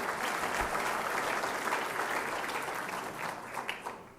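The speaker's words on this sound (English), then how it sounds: "You can clap for that too, it's fun." Applause from a crowd at a college men's basketball team banquet, a dense steady wash of clapping that holds for several seconds and then thins slightly toward the end, with no talk over it.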